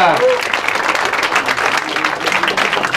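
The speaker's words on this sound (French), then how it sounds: "Allez, on applaudit l'avenir cycliste de Touraine." A crowd at a cycling team presentation applauds steadily, a dense wash of clapping with a voice briefly heard at the start.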